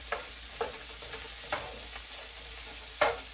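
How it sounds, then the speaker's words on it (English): Zucchini and tofu frying in a pan are stirred in a few quick scrapes, each stroke a short bright swish over a soft, steady sizzle, spaced irregularly across a few seconds. "I'll give that a quick stir."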